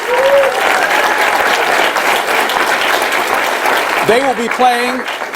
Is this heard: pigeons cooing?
no